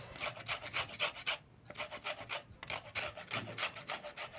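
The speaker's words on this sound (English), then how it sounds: "Make sure not to grate the white part because the cake will turn out bitter." Lemon zest being grated for a lemon loaf cake, a quick series of rhythmic scraping rasps up close, repeated strokes with a brief pause midway, fairly quiet and with no talking.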